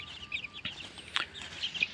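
Backyard chickens cluck softly in short, scattered calls at close range, with a rooster among the flock and a few sharper squawks breaking through the low barnyard background.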